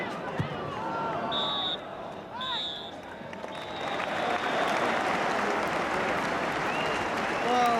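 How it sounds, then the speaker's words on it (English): Football crowd at a Stoke City match applauds as the players come off, a broad steady wash of clapping and murmur under an announcer's voice, with whistles early on. "Stoke City come off to good applause"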